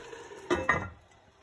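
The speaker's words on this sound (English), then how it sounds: "cover it with a lid" A lid set on a pot of simmering seafood stew, two quick close metallic clanks a moment apart, then fading ring over a quiet kitchen.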